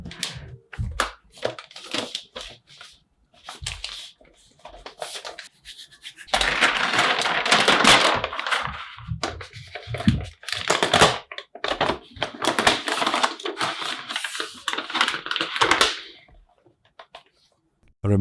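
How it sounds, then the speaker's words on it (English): Wrapping paper is pulled away from a 16-inch MacBook Pro 24-core box, making bursts of close, crisp crinkling and rustling that swell into sustained loud tearing and scrunching, then stop abruptly. "Removing the wrapping paper"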